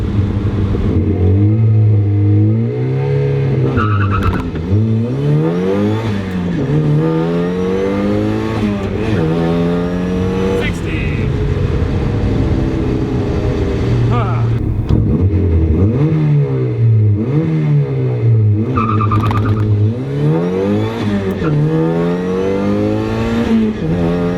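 A turbocharged Mazda Miata launches hard and accelerates through the gears, its engine rising in pitch repeatedly with brief drops at each shift, loud and close throughout.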